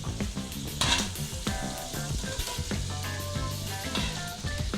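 Oil, butter, garlic and shrimp juices sizzle and fry steadily in a pan for Tuscan shrimp, with a constant crackling hiss, a brief louder burst near the start and light utensil clinks throughout.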